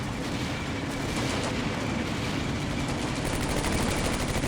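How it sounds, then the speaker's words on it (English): Dense, continuous rumble of artillery and gunfire in the WWII wargame Combat Mission Beyond Overlord, a loud unbroken barrage of booms and crackling with no let-up and no talk. "Oh, they are starting to bombard here."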